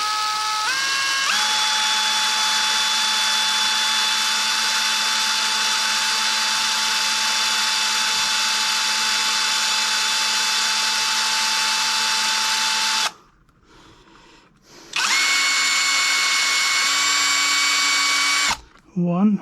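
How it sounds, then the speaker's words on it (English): A power drill whines steadily at high speed for a long stretch while drilling into a mini karaoke jukebox, stops briefly, then spins up again at a higher pitch before cutting off. "Try not to drill through my fingers"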